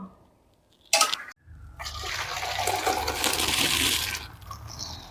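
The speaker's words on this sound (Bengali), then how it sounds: "ডালটা ঢেলে নেব।" Dal (lentil soup) pours into a pot with a steady liquid gush lasting a few seconds, preceded by a sharp clink of the vessel.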